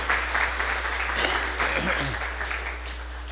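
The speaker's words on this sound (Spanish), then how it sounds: "Dale un aplauso a Jesucristo, por favor." Church congregation applauding during a Spanish-language sermon, a continuous wash of clapping with a brief voice cutting through in the middle.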